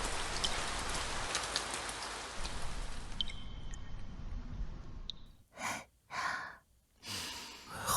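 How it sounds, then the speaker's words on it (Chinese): Steady rain falls heavily and continuously for several seconds, then cuts out, followed by a few soft breaths or sighs in near silence. "怎么突然下雨了？"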